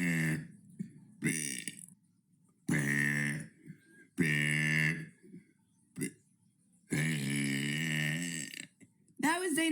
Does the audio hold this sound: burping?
yes